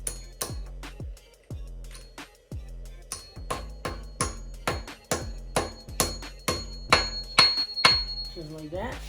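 Repeated sharp hammer strikes on metal while installing a clutch kit on a Nissan 300ZX VG30DETT ring out in a steady, quickening rhythm, each hit leaving a brief metallic ring.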